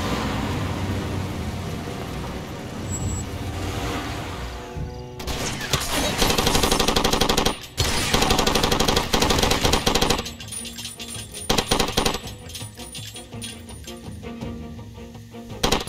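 Rapid machine gun fire in the video game Far Cry 2, dense sustained bursts broken by short pauses, loud and harsh over a running vehicle engine.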